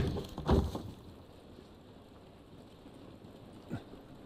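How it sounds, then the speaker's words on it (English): Rain falls in the video game The Last of Us as a faint, steady patter and hiss. A couple of soft thuds sound near the start and near the end. "This rain ain't gonna do us any good."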